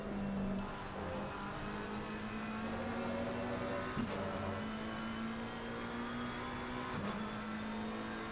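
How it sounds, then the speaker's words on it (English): McLaren GT3 race cars running nose to tail at Kyalami raise a loud, steady engine roar, broken by two sharp dips at gear changes as they pass close by. "There's 3 McLarens running bumper to bumper here."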